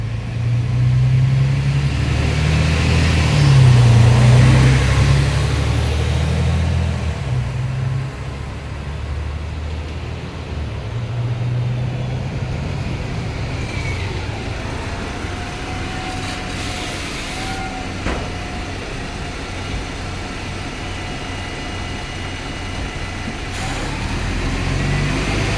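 Steady low engine drone and road rumble from aboard a city bus, the last night service 2, heard from the front as it drives along, loudest early on and easing to a constant hum with occasional faint squeaks.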